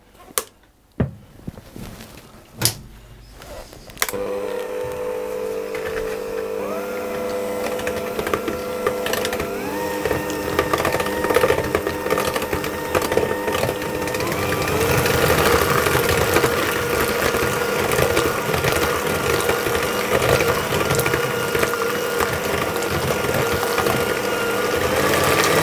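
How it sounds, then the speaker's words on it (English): A handheld electric mixer beats sugar, lemon zest and other cake ingredients in a bowl for a chocolate mascarpone cake, a steady whirring drone that starts after a few clattering knocks and keeps going for more than twenty seconds. "I'm going to beat those with my hand mixer until they're all incorporated nicely"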